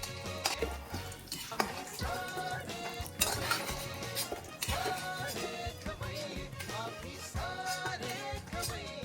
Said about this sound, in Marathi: हे काजू बदाम जे आपण काप केले तर ते मी आता तुपामध्ये परतून घेते